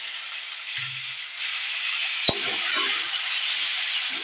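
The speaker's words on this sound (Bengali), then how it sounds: "তো এখানে হচ্ছে উচ্ছে আর আলু ভাজা হচ্ছে।" Bitter gourd and potatoes frying in a home kitchen pan give a steady, close sizzle, with a sharp utensil clink partway through and soft stirring scrapes after it.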